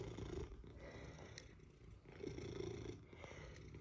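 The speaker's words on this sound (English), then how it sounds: "Purr, baby." A cat purrs steadily up close, a low rumbling drone rising and falling with each breath, faint and without talk.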